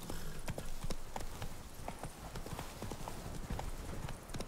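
Galloping horse hooves from The Witcher 3: Blood and Wine video game, a fast, steady clip-clop rhythm of continuous running across the whole stretch, moderately loud with faint background game ambience and no speech.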